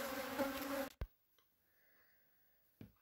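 Bees swarm at an apiary with a dense, loud buzz that cuts off abruptly after about a second, followed by a faint, thin hum and a couple of sharp knocks.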